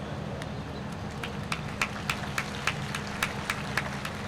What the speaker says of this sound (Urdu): تالیاں بہت کم ہیں